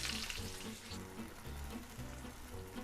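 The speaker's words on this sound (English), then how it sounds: "I heat the pan, and then I add the tomatoes to the pan." Tomatoes sizzling in hot olive oil in a pan, a steady, close frying hiss that holds throughout over a low, rhythmic background hum.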